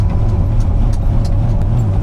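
An old, slow car straining at full throttle on a race track, a loud, steady low engine drone heard from inside the cabin with faint rattles.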